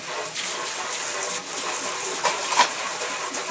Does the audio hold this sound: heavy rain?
no